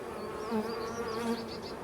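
Honeybees hum in a dense, steady drone around an opened hive during an inspection after a hard winter, with individual buzzes rising and falling up close and no talk over them.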